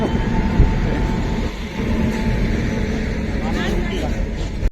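The passenger train Saurashtra Janta rumbles into a station platform, with a steady loud rolling roar of wheels and carriages and some squealing toward the end. People talk over the noise.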